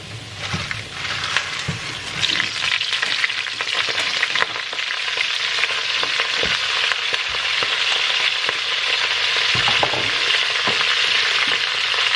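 Garlic stir-fried in a home kitchen pan, a steady loud sizzle with scraping stir strokes throughout, no voices.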